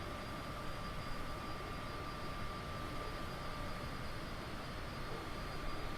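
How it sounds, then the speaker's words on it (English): A real airplane passes outside near an airport, a steady broadband engine roar that holds at an even level throughout with a faint constant whine above it, no voices. "Now I hear a real plane outside. I actually don't live that far from an airport."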